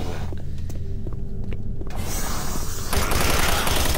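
Doom 3 machine gun fire, scattered mechanical clicks and clanks that give way to a loud, continuous burst of rapid gunfire in the final second, with no voices.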